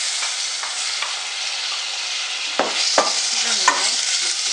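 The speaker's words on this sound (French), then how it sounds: "maintenant je vais commencer à ajouter ma viande" Small cut pieces of meat go into a hot pan for a Tunisian tajine malsouka, setting off a steady close sizzle, with a few sharp clatters and scrapes of stirring in the second half.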